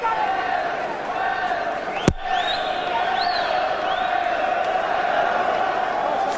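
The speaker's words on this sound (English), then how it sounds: "Crowd here absolutely enraptured by this" Big boxing crowd roaring steadily at the Eubank v Calzaghe fight, a dense continuous wash of cheering and whistles with a sharp thud partway through.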